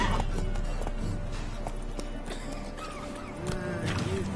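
Roach, the horse in The Witcher video game, with hooves clopping in a quick, irregular rhythm close by, mixed with game ambience and a brief snort-like sound near the end.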